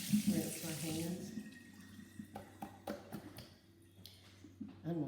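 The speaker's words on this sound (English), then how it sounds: "Now I'm going to rinse my hands." Tap water runs over hands being rinsed in a home kitchen during pork rib preparation, a soft steady splashing with light drips, fairly close and low in level.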